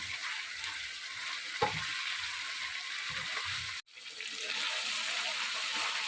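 Mutton sizzles as it fries in oil in a pan for a bhindi gosht dish, a steady hiss broken by stirring scrapes and one brief pause midway.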